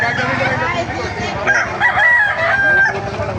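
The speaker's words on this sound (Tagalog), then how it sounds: "Ganda ng mga manok, oh." Roosters crow nearby with hens clucking around them, a busy farmyard chorus with faint voices in the background, at a chicken market in Baliuag, Bulacan.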